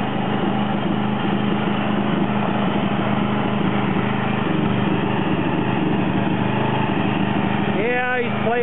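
A John Deere 111 lawn tractor engine running steadily right after a cold start, a loud, close, continuous buzzing drone that holds the same pitch throughout, with a brief mechanical whine near the end.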